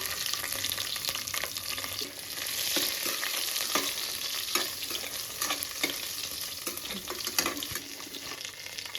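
Cumin, garlic and green chillies sizzling in oil for ven pongal: a steady close frying hiss broken by scattered sharp pops and light stirring scrapes, with no voices.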